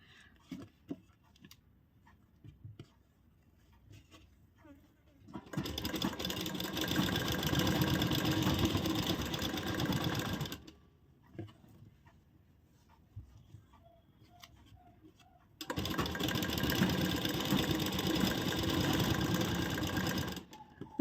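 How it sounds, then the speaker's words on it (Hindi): A sewing machine runs slowly while stitching piping for a kurti, two sustained bursts of steady mechanical whirring of about five seconds each, separated by quiet pauses filled with faint handling noises. "बहुत धीरे धीरे मशीन चलानी है, बहुत जल्दबाजी नहीं रखनी है"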